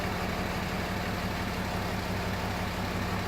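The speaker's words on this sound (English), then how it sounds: "Let's take it to 5 miles an hour. See what happens here." A flat-back differential's ring gear and speedometer reluctor wheel spin in gear lube at 5 mph, producing a continuous, even mechanical whir and hum with no change in level and no talk.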